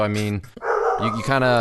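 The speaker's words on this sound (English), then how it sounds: "What dog was that?" A dog barks briefly during a conversation, the short bark mixed in with people talking close by.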